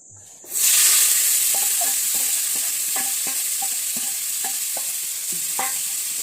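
Garlic and green chili with turmeric and salt hit a hot pan for light frying for shrimp paste, bursting into a loud steady sizzle after a brief quiet start, with regular clinks and scrapes of stirring.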